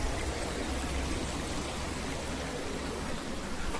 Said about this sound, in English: we found a weir, and where there's a weir, there's usually a sluice gate